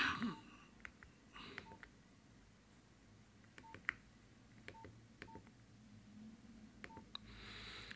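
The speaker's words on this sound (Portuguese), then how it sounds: "Sons do teclado tal." Faint, short keypad beeps from a Nokia 2255 mobile phone sound one after another at uneven intervals, about a dozen tones against a quiet background.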